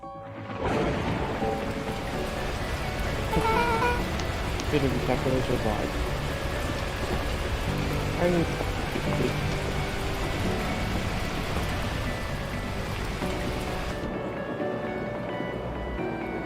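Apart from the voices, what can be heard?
torrential rain in the video game Beacon Pines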